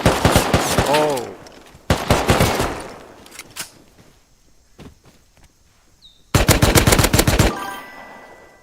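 Gunfire rings out in the video game Rust, loud rapid automatic bursts up close separated by quieter stretches, with footsteps and scattered thuds in the gaps before a final heavy burst.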